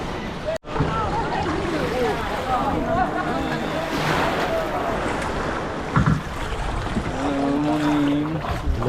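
Sea water laps and washes near a speedboat at a Bali beach crossing to Nusa Penida, with a continuous surf wash and wind noise while people talk nearby.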